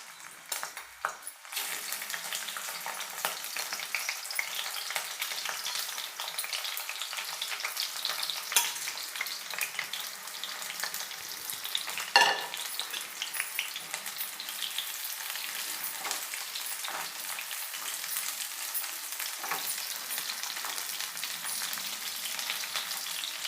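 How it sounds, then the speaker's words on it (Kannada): Cut bitter gourd, drained of its water, frying in hot oil for a bitter gourd curry, a continuous close crackling sizzle with scattered pops and an occasional utensil clink, steady and unbroken. "ನಾನು ಈ ಹಾಗಲಕಾಯಿ ಕಟ್ ಮಾಡಿ ಈ ಥರ ನೀರೆಲ್ಲ ತೆಗೆದಿಟ್ಟಿರೋ ಹಾಗಲಕಾಯಿನ ಡೈರೆಕ್ಟಾಗಿ ಸೇರಿಸ್ತಾ ಇದ್ದೀನಿ"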